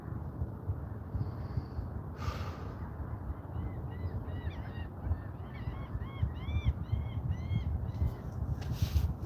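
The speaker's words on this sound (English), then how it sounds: "Look at the seagulls." Several gull-like calls repeating over roughly five seconds, clear over a steady low rumble of wind or surf at the waterfront.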